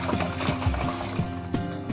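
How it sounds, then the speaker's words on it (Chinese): Warm water at about 40 degrees poured into a basin of dried lotus root noodles, a close splashing, gurgling stream with irregular bursts across two seconds. "倒入40度左右的温水浸泡一个小时"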